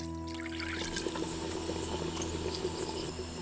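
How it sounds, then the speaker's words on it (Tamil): Water pours steadily into a pot for sambar with a continuous splashing rush, over a low background hum, close and fairly loud. "குழம்புக்கு தேவையான அளவு தண்ணியை ஊற்றி கொதிக்க வச்சிடலாம்"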